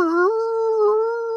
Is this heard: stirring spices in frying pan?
no